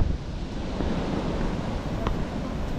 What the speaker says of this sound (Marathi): जबरदस्त लाट आहे